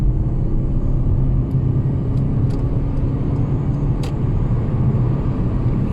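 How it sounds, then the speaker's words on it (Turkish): Toyota C-HR 1.8 hybrid from 2023 accelerating at full throttle in a 0-100 run on a partly wet road, a steady loud engine and road roar that holds without a break. "Şöyle bir sıfır yüz denemesi yapıyorum arkadaşlar. Şimdi size gaza bastım."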